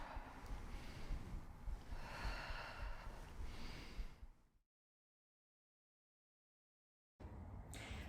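Deep breathing during a stretching exercise in an upper-body strength session, a steady close breathy rush for about four and a half seconds, then silence before a brief return of breath noise at the end.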